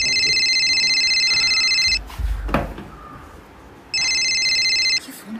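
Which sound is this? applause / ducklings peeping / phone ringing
phone ringing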